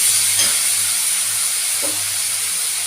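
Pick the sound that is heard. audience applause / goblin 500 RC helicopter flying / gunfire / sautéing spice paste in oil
sautéing spice paste in oil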